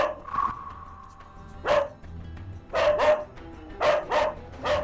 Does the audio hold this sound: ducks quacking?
no